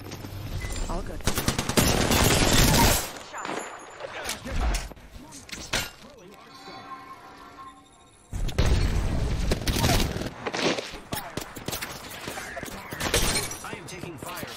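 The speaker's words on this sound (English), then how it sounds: "I am taking fire, friends." Bursts of automatic gunfire and impacts ring out in an Apex Legends match, loud rattling volleys with a quieter lull in the middle before heavy shooting resumes. Voices talk over parts of the fighting.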